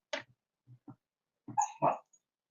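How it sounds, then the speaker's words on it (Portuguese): A sleeping dog dreaming indoors, giving a few short muffled woofs and whimpers, then a sharper yip and bark, close and intermittent with silent gaps and no talk. "O cachorro tá sonhando aqui. Ele sonha e começa. Ele sonha. Ele late, ele rosna sonhando."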